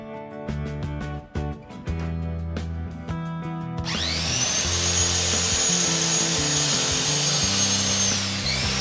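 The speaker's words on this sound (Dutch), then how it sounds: "ik doe dat met die zaag met dat fijn blad in" A saw with a fine blade cuts wood along a guiding lath while converting a Fiat Ducato into a camper, starting with rhythmic strokes before a loud, steady power-tool whine takes over, close and continuous.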